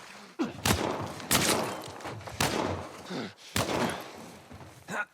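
Flashbang grenades going off in The Last of Us, loud sharp bursts with hissing ringing tails, three or four blasts spaced about a second apart, no talking.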